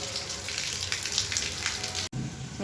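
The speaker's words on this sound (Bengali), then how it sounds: "মাঝে মাঝে এই যে জল পড়ছে" Rain falls steadily during stormy weather, a dense, close hiss of water that runs continuously and breaks off for an instant near the end.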